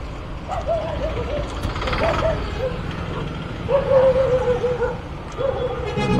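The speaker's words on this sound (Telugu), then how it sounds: "అమ్మా ఈ కుక్కల గోల ఎక్కువైపోయింది ఎక్కడ చూసినా." Dogs by a roadside yelp and whine in short, high, repeated bursts, moderately close, over a constant background of traffic noise.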